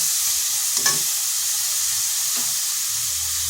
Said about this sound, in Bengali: শুকনো লঙ্কা এইভাবে ভেজে করে দিলে এর স্বাদটা কিন্তু দ্বিগুণ বেড়ে যাবে